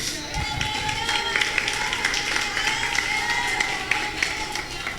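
A church congregation claps together in a dense, lively patter of applause, close and steady throughout, with a voice calling out over it.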